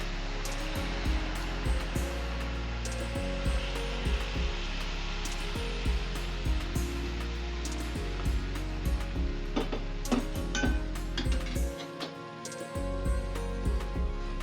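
Grated carrots for gajar halwa cook in added milk in a pan, a steady sizzling hiss broken by frequent clinks and scrapes of a spoon stirring, loud and close throughout.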